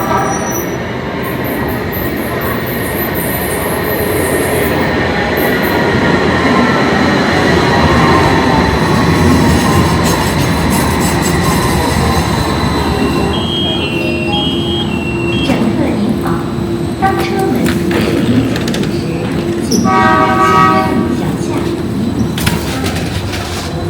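Tram-style subway train with low platforms and no platform doors, a loud rolling rumble with wheel squeal and rattling carriages, close by, slowing with brief tonal squeals toward the end while a voice speaks over it.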